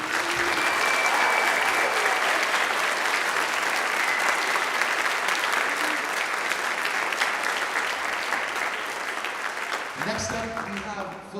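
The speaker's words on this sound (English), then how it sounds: "Let's give them a round of applause." Sustained audience applause at a high school band concert honoring students who earned state stars, a dense, steady wash of clapping for about ten seconds that thins out near the end.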